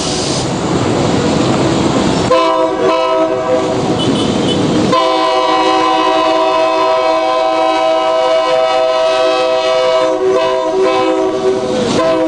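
A Nigerian Railway Corporation passenger train arrives at the Osogbo terminal, its loud sustained horn blaring over a steady rumble and clatter of wagons, with a break and then a long held horn tone that continues to the end.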